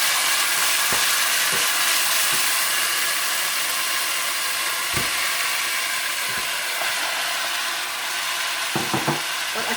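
Chicken sizzling and frying in a pan with onions, ginger and garlic, a steady loud hiss with occasional stirring clatters, no voices.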